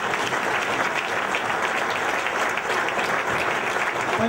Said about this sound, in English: Round of applause, please, everybody.